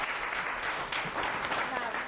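A studio audience on a cooking show gives a round of applause, steady and dense throughout the short stretch, with a voice talking over it.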